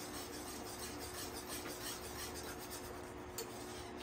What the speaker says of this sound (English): we're just going to take it as a slow process and whisk out all the little lumps in between each one.